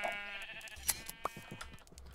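A sheep in the Minecraft video game bleats faintly, in a few short sounds, against quiet background noise.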